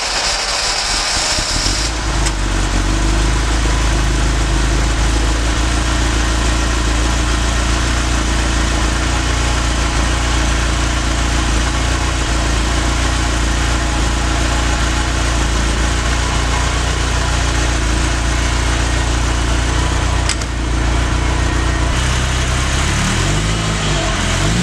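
1985 Ferrari Mondial Quattrovalvole 3-litre V8 cranks briefly, catches and settles into a loud, steady idle with a deep burbling rumble, close by and continuous throughout, a small blip near the end; no talking.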